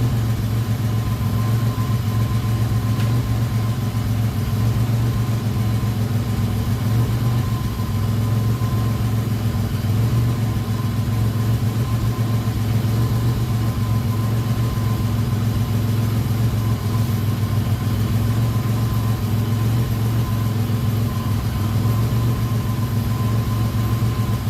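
A rebuilt 3.8 engine in a 2004 Grand Am runs at a steady, loud idle as the car is put in gear, a continuous low rumble with a faint whine and no speech.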